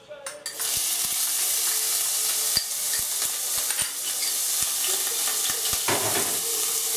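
Onion sizzles steadily in a hot oiled frying pan, with a spoon clacking against the pan as it is stirred now and then, all close and without talk.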